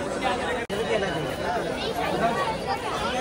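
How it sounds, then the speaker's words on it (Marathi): Dense crowd chatter at a Ganapati festival market, a steady hubbub of many overlapping voices close around, with no single voice standing out. "गर्दी जोरात चालली."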